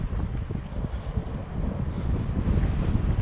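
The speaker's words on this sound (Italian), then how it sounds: "ancora il vento in faccia" Steady headwind rushes and buffets against the microphone of a cyclist riding in the countryside, a loud continuous rumble with no talking.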